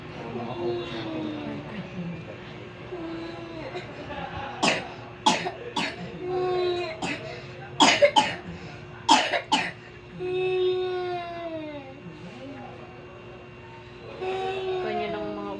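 Several sharp, harsh coughs in bursts, close by, with a steady background hum and some indistinct voices in between.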